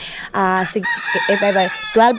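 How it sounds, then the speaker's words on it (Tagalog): Rooster crowing loudly and close in a rural provincial yard, several long harmonic calls across the clip, with a second crow starting near the end and a few soft clucks between. "Ang ingay ng mga manok ni Papa mga maninay ang aga-aga kasi dito sa probinsya"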